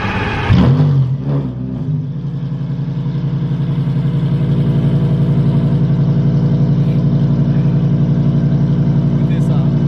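A car engine cranks and fires up with a loud burst, then settles into a steady, even idle that runs close and loud to the end, with brief talk near the start.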